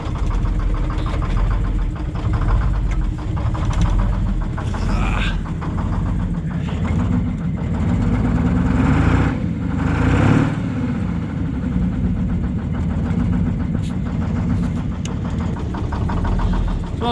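Antique GMC 9500 manure spreader truck with a 13-speed transmission, its diesel engine idling in a steady loud rumble with slight revving swells, someone talking over it.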